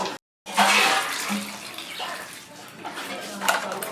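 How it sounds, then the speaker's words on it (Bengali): Raw tomatoes from a home garden washed under running water, a steady close gush of the stream that starts after a brief cut near the beginning and keeps flowing with light splashes. "তো চলুন আগে টমেটোগুলো ধুয়ে নিচ্ছি"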